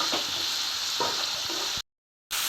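Onions with salt sauté in a pan for a village-style egg curry, giving a dense, close sizzle with soft stirring scrapes, broken by a half-second cut to total silence before the sizzle resumes.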